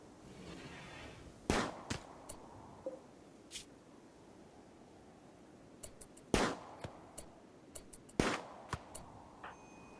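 Auto pistol fire in Rimworld cracks out as a few sharp, spaced shots, each a brief loud snap with smaller ticks and pops between, over quiet ambient background.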